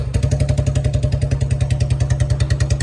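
A 2017–2020 model motorcycle engine with a misfire idles close by with a steady, rapid thumping beat, loud and continuous.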